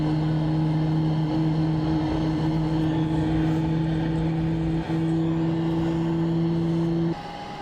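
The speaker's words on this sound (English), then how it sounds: "We're going to start engine number 2" A jet airliner engine, number two, spooling up during pushback in a flight simulator game, a steady loud whine with two sustained tones holding throughout, then a brief shift in pitch near the end.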